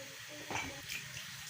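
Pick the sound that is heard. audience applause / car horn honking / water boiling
water boiling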